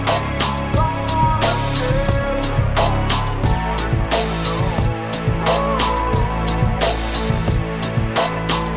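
Beat loop sampling a song, layered with punchy drums, chords and bass under heavy processing; a steady, loud, dense groove with regular kick and snare hits running throughout.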